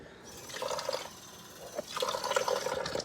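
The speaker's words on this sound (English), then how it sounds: "And add a little water." Water is poured from a small container into whole wheat flour in a kitchen, giving two short splashing bursts of trickling liquid, close and fairly quiet, with no talking.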